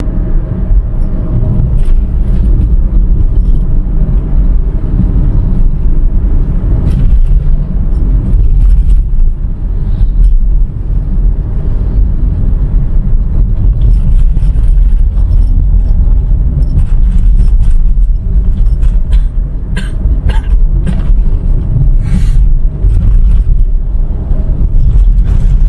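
Car driving along a quiet road in Bali, a steady loud engine and road rumble heard from inside the vehicle, continuous and alone with no talking.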